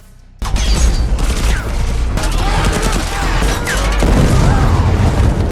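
A huge explosion goes off in an action movie scene with CGI lizard creatures, from a monster film with megalodons and a kraken: a sudden loud blast, then sustained roaring, rumbling and crashing debris that keeps building.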